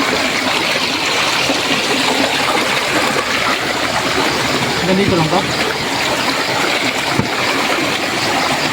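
Strong, steady rush of flowing water at night during crab catching in the Philippines fills the scene, loud and continuous, with people talking over it.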